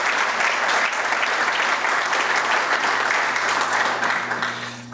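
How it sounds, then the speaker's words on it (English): Big round of applause for the organizers at a community foundation thank-you evening; dense, even clapping from a sizable crowd holds steady, then begins to thin near the end. "So please give them a big round of applause."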